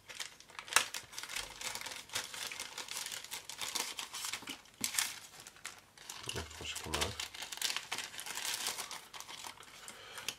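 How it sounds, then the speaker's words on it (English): Crinkling of a resealable plastic bag holding decals, towing cable and photo-etch parts from a Panda Hobby T-15 tank model kit, close and fairly quiet, with irregular rustling throughout and a voice speaking briefly. "This is a resealable bag,"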